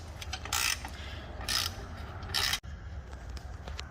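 Mount bolts on a Suzuki PE250 muffler are loosened with a ratchet: three short, close, evenly spaced bursts of rapid clicking over a low background rumble, with no talking.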